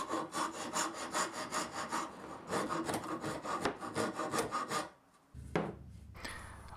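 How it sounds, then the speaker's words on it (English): A hand rasp shapes a wooden easel leg in steady back-and-forth strokes, rhythmic and close, with a brief pause near the end before a final few strokes. "I could do the rest of the shaping by hand with a rasp."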